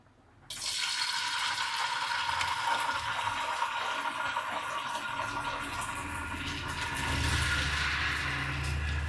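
Fish fry in oil in a large pan, the sizzle bursting in suddenly and then holding as a loud, dense hiss that swells slightly near the end.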